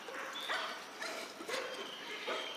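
A dog makes several short, faint yips and whimpers at a distance, spaced about a second apart.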